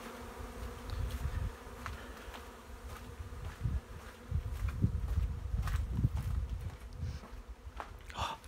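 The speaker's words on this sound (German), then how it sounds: "Für Bienen ist es eine riesige Party." Bees buzz steadily in a continuous low drone, with individual insects swelling louder as they pass close by, and no voices.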